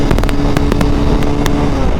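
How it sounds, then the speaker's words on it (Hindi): A Bajaj Pulsar 220 motorcycle races an R15 at full throttle, its engine droning steadily and loudly under heavy wind buffeting on the rider's microphone. "पूरा एक्सीलेटर दे दिया है।"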